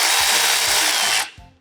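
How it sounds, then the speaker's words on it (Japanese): A Milwaukee M12FIR38 cordless high-speed ratchet fitted with a 17mm socket spins with a loud, steady motor whine for just over a second, then cuts off, its clicking mechanism ticking faintly beneath. "M12FIR38 というラチェットになります。 17mm のソケットをつけて"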